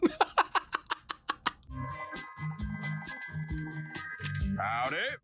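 An old-fashioned telephone rings in a cartoon short, a quick series of bright bell bursts, then the line opens onto music and layered sound under the scene.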